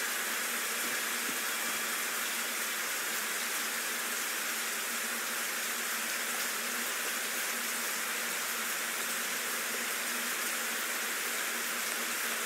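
Steady, continuous rainfall in the video game Black Mirror 3 forms a dense, unbroken hiss of drops on surfaces. It holds at a constant level throughout, with no voices.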